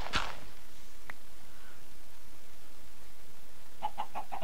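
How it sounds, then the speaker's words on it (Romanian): Minecraft chicken clucking after being hit in the video game, a sharp burst at the start, then a lone blip and a short run of four quick clucks near the end, heard fairly clearly over quiet background. "Iar am lovit o găină."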